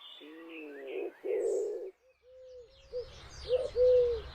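A wood pigeon coos in a garden, giving a few soft, hollow, rhythmic phrases at moderate distance, with faint higher bird chirps and a low background rumble around them.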